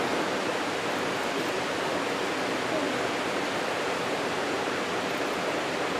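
Steady, dense rush of a waterfall on an Alaska salmon river, a loud, even roar of falling water that holds without a break for six seconds, with no voices.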